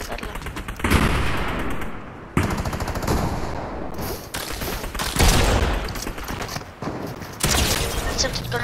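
Rapid automatic gunfire from a first-person shooter video game rattles in dense, loud bursts with brief gaps between them, over the game's sound effects.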